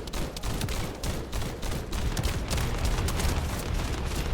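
Greg's rapid gunfire and bombardment in The First Descendant, a dense, loud stream of cracking shots and booming impacts that keeps going for several seconds.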